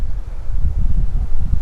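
Outdoor wind buffets a microphone in a steady low rumble with gusty surges, loud and close, and no one speaks.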